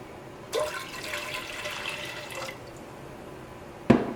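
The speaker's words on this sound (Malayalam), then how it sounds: "ഈ പാത്രത്തിലേക്ക് കുറച്ച് വെള്ളം ഒഴിക്കുക" Water pours into a large vessel set up for steaming, a steady splashing gush lasting about two seconds, followed by a brief knock as the pouring ends.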